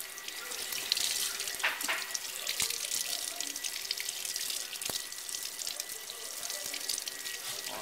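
Running tap water pours steadily over a freshly dyed lacrosse head being rinsed in a sink, a constant hissing splash with a few light knocks.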